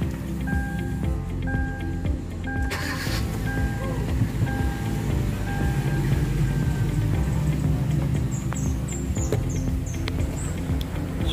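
A parked car's engine idles steadily with a low rumble while the aircon blower is tested, with faint clicks and a brief rise in noise partway through.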